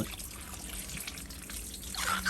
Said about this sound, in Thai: เราต้องมาล้างรีดออกทีละใบเลยนะครับ